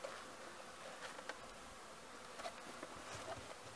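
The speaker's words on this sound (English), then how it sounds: "So now we're going to open up a live hive." Bees hum from inside an opened live beehive, a soft, steady buzzing swarm with a few individual bees flying close past.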